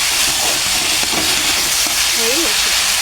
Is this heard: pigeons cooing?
no